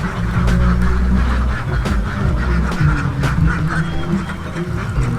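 A flock of ducks on a river in flood season quacks loudly and close, with overlapping calls in a busy, continuous chorus and no talking.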